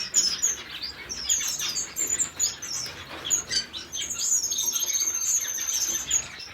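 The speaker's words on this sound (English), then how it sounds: "He really is a stunning looking bird." A male blue-faced parrot finch chirps in thin, high, rapid tweets, fairly close and steady over a quiet background, with occasional bursts of overlapping calls.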